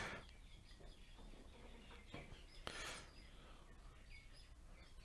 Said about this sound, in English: I've got some birds outside that want to kill each other